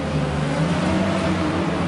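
A Genie boom lift travels forward at high speed before braking, its engine and drive making a continuous loud hum that stays even across the short stretch.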